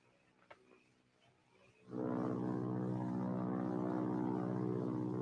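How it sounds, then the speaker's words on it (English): Propeller airplanes in a 1947 film soundtrack swell in abruptly after a quiet opening and then hold a loud, steady, droning roar overhead, with no talk over them. "Might be Army planes."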